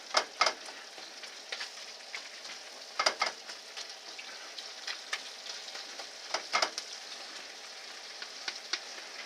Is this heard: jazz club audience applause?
no